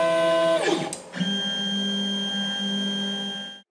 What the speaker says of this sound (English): The stepper motor drivers are silent, but when you're moving this fast, you're going to hear them no matter what